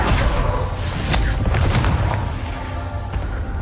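The Confringo fire spell in the video game Hogwarts Legacy explodes in a loud, heavy boom, with a dense rumbling blast and a few sharp cracks over continuous game noise.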